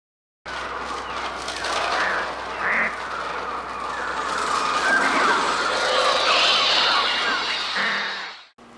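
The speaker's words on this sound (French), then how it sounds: "Voyons si on plaque les cris d'oiseaux d'Hitchcock sur les rongeurs de l'Apocalypse" Harsh bird cries from Hitchcock's The Birds laid over footage of rodents, a dense chorus of squawking, honking calls that swells in the middle and cuts off sharply at the end.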